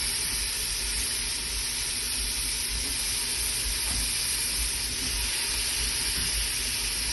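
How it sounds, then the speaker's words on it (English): Tomatoes sautéing in a pan with chilies, ginger and garlic, a steady dense sizzle and hiss that runs unbroken and close throughout. "And saute them until they're completely mushy."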